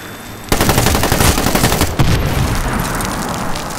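Rapid automatic gunfire in the video game Medal of Honor: Warfighter, a loud dense stream of shots that starts abruptly, keeps rattling and fades into a noisy tail.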